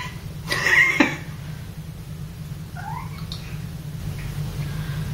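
A cat cries out briefly near the start, a short meow-like call over a steady low background hum, followed by faint quieter sounds in a room.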